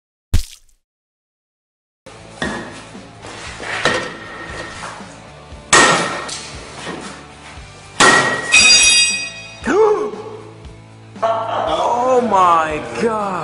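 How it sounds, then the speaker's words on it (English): Hammer blows during a destructive stress test, a series of loud sharp metallic impacts spaced a second or two apart, some with ringing overtones, ending in a breaking crack, with voices and exclamations between strikes. "Well, we broke the hammer."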